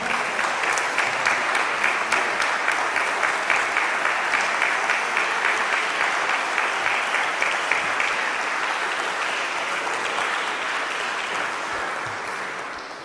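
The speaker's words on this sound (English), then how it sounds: "Please greet him with a round of applause." A mosque audience applauds steadily to welcome a student minister to the podium, dense sustained clapping that holds for several seconds and then slowly tapers off, with no talking over it.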